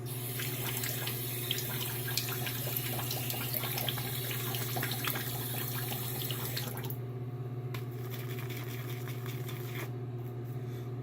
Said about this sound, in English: I'm going to add a little bit more water.